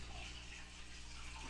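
Water steadily pours into a 37 gallon Top Fin Essentials aquarium tank, a continuous, even rushing flow that stays loud and unbroken throughout, with no talk.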